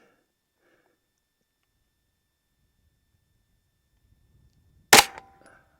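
A single sharp, loud gunshot from a Smith & Wesson FPC 9mm carbine cracks out of near silence outdoors, followed by a brief fading echo.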